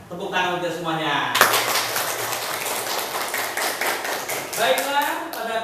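Applause breaks out in a classroom, a dense run of hand claps after a spoken line, the students clapping together for several seconds with voices around it.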